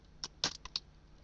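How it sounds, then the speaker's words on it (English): A handful of quick computer keyboard keystrokes, close and fairly quiet, in a short burst with no talk. "Right here I'm typing"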